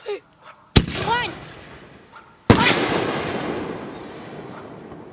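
Fireworks bursting at a backyard display in West Virginia: two sharp, loud explosive cracks a couple of seconds apart, each followed by crackling and whistling tails that hang in the air and fade slowly.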